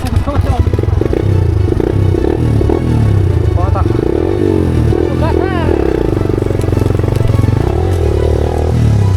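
A motorcycle ridden over a rough rural track crossed by tree roots, its engine droning loud and steady throughout with rattling and scraping from the bumpy ground, close to the microphone.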